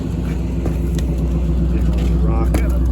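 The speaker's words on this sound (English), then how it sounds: "The old exhaust sounds pretty good." AMC Hornet wagon with a 304 V8 driving along, its exhaust a steady, loud low rumble throughout, with occasional clicks and bumps over the top.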